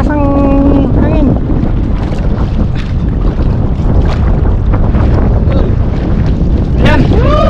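Strong wind roars into the microphone on a small fishing boat at sea as a net is hauled in, a loud continuous buffeting rush throughout with brief voices and whistling tones in the gusts.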